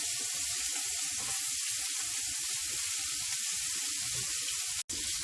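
Meatballs sear in a hot pan with a steady, loud sizzle that runs unbroken, cut only by a brief dropout near the end.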